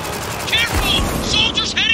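Gunfire from blind firing in Spec Ops: The Line, a loud short rapid burst mixed with battle noise and ringing tones, with voices over it.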